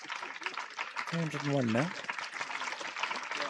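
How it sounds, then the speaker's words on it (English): Crowd applause at a county cricket match between Somerset and Warwickshire, a steady broad patter of clapping running throughout under close commentary voices. "Well-deserved applause."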